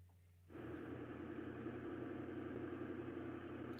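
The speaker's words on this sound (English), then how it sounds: "Car's too loud." Car cabin noise on a long road trip: after a brief quiet moment a loud, steady low rumble of engine and road noise swells in and holds, broadband and droning, with no voices.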